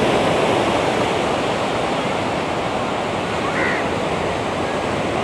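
Ocean waves at Sinquerim beach in Goa roll in a steady, loud broadband roar of surf with no distinct breaks, wind-like and continuous throughout.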